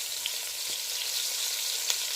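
Green chilies and onions fry in melted margarine in a single pot for chicken biryani, a steady close hiss and sizzle with a few faint pops.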